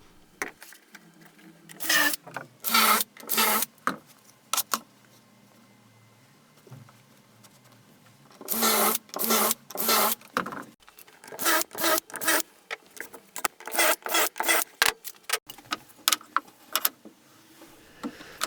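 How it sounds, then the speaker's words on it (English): Shelf pin holes drilled up the uprights of large shelves with a simple jig: short, loud bursts of drilling come in irregular clusters with brief pauses between them, and no talking is heard. "I'm using my simple jig, working my way up the uprights until all the shelf positions are covered"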